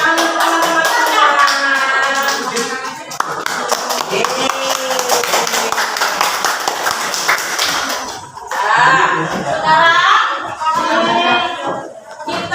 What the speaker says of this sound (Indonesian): Tepuk tangan untuk teman-teman sekalian.